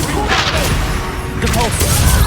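Bombarda explosion spells in the Hogwarts Legacy video game, heavy booming blasts over dense combat noise, loud and close, with voices shouting amid the chaos.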